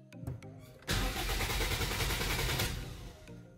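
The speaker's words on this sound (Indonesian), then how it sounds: "kemudian saya coba starter ya" A car's starter motor cranks loudly and continuously for nearly two seconds after a few sharp clicks, but the engine never catches; close and alone, with no talking over it.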